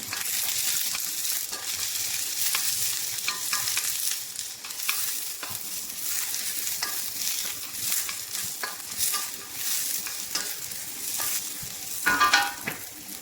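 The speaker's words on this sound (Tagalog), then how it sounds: "Medyo dumidistansya lang ako ng konti kasi tumatalsik yung kanyang mantika." Red onion fries in hot oil with a continuous loud sizzle and crackle, the oil spattering and popping throughout with occasional stirring scrapes.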